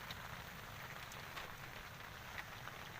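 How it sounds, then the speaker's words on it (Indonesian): Steady rain falls at a reservoir location, an even, dense patter of drops on surfaces with faint scattered splashes, continuous and moderately distant with no voices. "Hujan."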